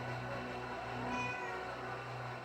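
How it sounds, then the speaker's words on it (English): A pet cat named Milo makes a faint, drawn-out meow behind a steady low hum in a quiet room, with no talking. "my cat Milo, he's doing like the sound effects for the monster"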